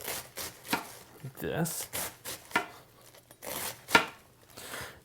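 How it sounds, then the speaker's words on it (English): A knife cuts cabbage into thin slices across the grain, giving a run of crisp, close chops on a board at an uneven pace, with a few short spoken words mixed in. "we're going to do it by cutting thin little slices across the grain"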